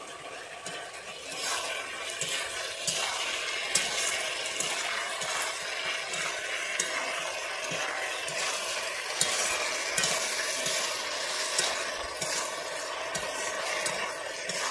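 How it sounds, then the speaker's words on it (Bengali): Chicken pieces sizzle and stir-fry in a hot pan for restaurant-style chilli chicken, a steady close hiss of frying with scraping stirs throughout and no talk. "আমি এর মধ্যে চিকেনগুলোকে দিয়ে দিচ্ছি, দিয়ে আমি আরও 1 মিনিট এইভাবে কষিয়ে নিচ্ছি।"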